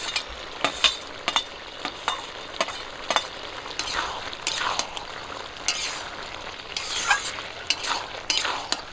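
Pre-fried fish added to a pan of cooked jackfruit seeds and potatoes and stirred, with soft steady sizzling under repeated close scraping and light clinks of a utensil against the pan.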